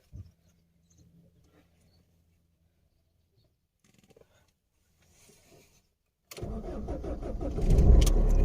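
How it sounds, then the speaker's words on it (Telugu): A Tata Indica car engine starts after several seconds of near silence with faint clicks and fumbling, then runs loud and close with a rising roar toward the end. "సో మన బండి స్టార్ట్ అయిపోయింది"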